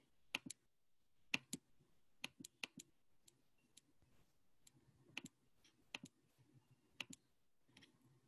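Computer mouse clicking in a quiet room, a scattered series of sharp, crisp clicks, often in quick pairs, spread irregularly across the stretch with soft background noise between them.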